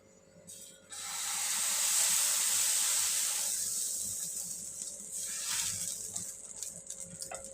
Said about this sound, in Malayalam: അപ്പം ഉണ്ടാക്കാനുള്ള പാനൊക്കെ നല്ലോണം ചൂടായിട്ടുണ്ട് നമുക്ക് ഇതിലേക്ക് അങ്ങോട്ട് ഒഴിച്ചു കൊടുക്കാം